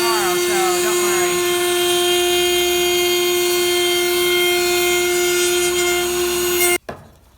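A bandsaw cuts wood with a loud, steady tonal whine and buzzing blade noise that holds for several seconds, then cuts off abruptly near the end.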